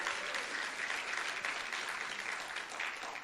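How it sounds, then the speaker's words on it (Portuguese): Church congregation applauding together, a steady dense roar of clapping hands at moderate distance, sustained throughout with no pauses. "Dá um aplauso forte a esse momento."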